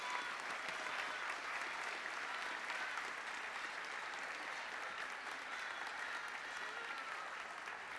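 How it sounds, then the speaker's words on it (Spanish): Warm, continuous applause from an assembled crowd at a secondary school event honoring the state governor, a dense even patter of many hands heard from a distance at a low level, sustained for about eight seconds with no speech. "les solicito, le brindemos un caluroso aplauso a nuestro gobernador Héctor Astudillo Flores, presente."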